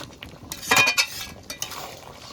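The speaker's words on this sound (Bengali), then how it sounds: "তরকারিটা ভালো করে নেড়ে চেড়ে নিয়েছি" Curry being stirred in a cooking pot, with a quick series of metallic clinks and scrapes from a spoon against the pot and a few softer stirring strokes afterward.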